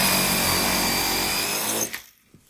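A drill with an 8 mm brad-point bit bores through 12 mm plywood held in a drilling block, a steady close whine that runs continuously and then stops abruptly, followed by brief handling clatter.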